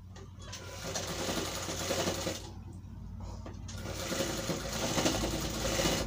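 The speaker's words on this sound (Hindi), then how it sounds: "इसके जड़ में सिलाई मारेंगे।" Sewing machine stitching a Nehru waistcoat, a rapid rhythmic mechanical whir in continuous runs with a couple of brief pauses, close and steady.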